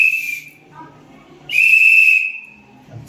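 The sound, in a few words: whistle blown to call children to school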